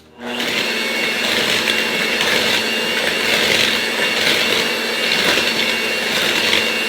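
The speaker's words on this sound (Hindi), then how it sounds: "अब हम इसमें अंडे मिक्स करेंगे और 1 बाय 1 हम अंडे डालेंगे इसमें और मिक्स करते जाएंगे" An electric hand mixer whirs steadily and loudly as it beats eggs into sugar, brown sugar and vegetable oil for a layered chocolate cake batter, starting abruptly and holding a continuous buzzing drone with slight rhythmic swells.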